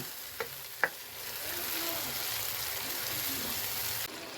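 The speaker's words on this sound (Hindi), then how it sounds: "अब इसमें टमाटर डालेंगे। अब टमाटरों को अच्छी तरह से भून लेंगे।" Tomatoes added to golden fried onions for chana dal sizzle steadily in a pan, a soft continuous frying hiss after a couple of brief knocks of stirring, fairly quiet and with no talk.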